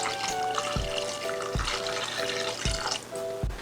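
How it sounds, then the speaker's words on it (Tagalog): Water poured into a pot of pork feet pochero while it cooks, a steady splashing trickle with a few louder knocks of the pot, close and moderately loud. "Ngayon magdadagdag po ako ng tubig para lumambot talaga itong ating"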